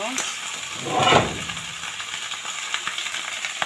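Vegetables cooked with dried shrimp are stirred in a pan, giving a brief, close scraping clatter around one second that fades into a faint, steady background hiss.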